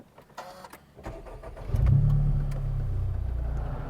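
A Honda Civic Type R FK2 engine fires up via keyless push-button start: a few faint clicks, then a loud crank and catch into a steady, close idle rumble.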